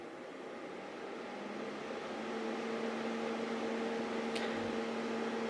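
A JS ionic air purifier with its fan switched to high runs in a living room, giving a steady, broad whooshing hiss with a faint tonal hum that swells slightly and then holds constant, heard from a short distance.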